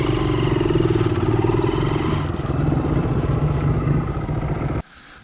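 Motorcycle engine running hard and revving loud and close on a wet trail on a fishing and camping trip, a steady droning roar for nearly five seconds that cuts off abruptly near the end.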